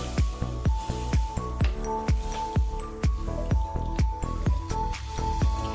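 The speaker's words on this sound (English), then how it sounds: "And let that simmer." Coconut shrimp sauce made with heavy cream and oat milk simmering in a pot, giving off a steady run of soft bubbling pops and drips at close range, with no talking.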